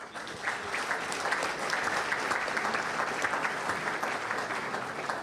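A crowd at a Polish left-wing political speech bursts into sustained, even applause, a dense wall of clapping that holds steady for several seconds.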